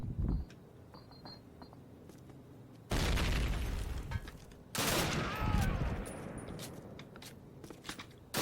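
Gunfire in Call of Duty set at the Eder dam: sharp shots early, then two long loud bursts of rapid automatic fire separated by a quiet stretch, with a few scattered reports between.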